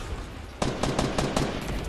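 Rapid bursts of gunfire crackle in quick succession, a string of sharp repeated shots over a low background hum.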